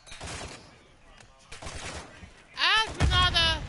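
Gunfire in a Call of Duty match, with faint shots under talk early on, then a louder rapid burst near the end as voices chatter over the game.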